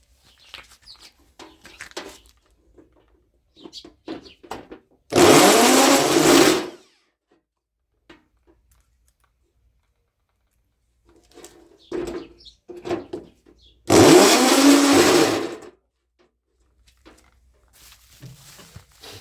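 Two bursts of a power screwdriver driving screws while an egg incubator is built from a refrigerated display case, each whirring for about a second and a half, with quiet handling clatter between them.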